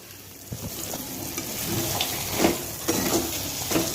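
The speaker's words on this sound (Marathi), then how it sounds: "परत एकदा चांगलं मिक्स करून घेऊया" Sheera, a semolina prasad pudding with fried cashew and almond pieces, cardamom powder and tulsi leaves, being stirred in a pan: a soft continuous sizzle with scraping strokes of a spoon, moderately close, rising in a few louder swirls.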